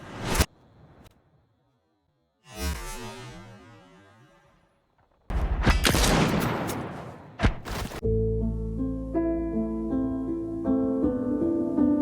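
Gunfire bursts in the video game Rainbow Six Siege: a sharp shot, then a booming, fading blast, followed by a dense volley of rapid shots before game music and sounds carry on.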